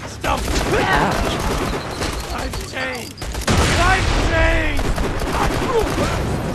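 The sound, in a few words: gunfire in the video game Borderlands 2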